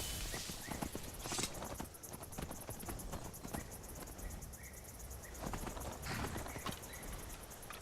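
Steady clip-clop of a horse walking in a video game, even hoof falls repeating at a walking pace over a soft bed of crickets and ambient outdoor sound, with no talk.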